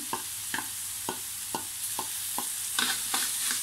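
Tofu filling being stir-fried and mashed in a pan, with soft sizzling under regular scraping strokes of a utensil, about two per second, close and fairly quiet with no talking.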